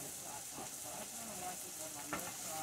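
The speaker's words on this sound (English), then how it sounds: "shrimp are cooking along with the mussels" Shrimp and mussels cooking together in a hot pan, giving a soft, continuous sizzle and hiss with faint stirring movements, heard alone at low level.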